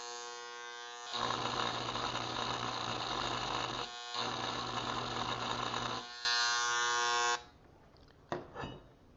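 An electric engraver buzzes loudly and steadily while marking a cheap metal pry bar, running in sustained bursts with a brief pause, then a sharper higher stretch before it stops and a few faint clicks follow.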